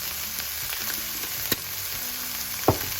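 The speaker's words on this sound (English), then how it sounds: "I'm gonna stir fry this until the cabbage is" Onion, parsley and cabbage stir-fry in a pan with a steady, close sizzle, broken by a couple of sharp clinks of a utensil against the pan near the middle and end.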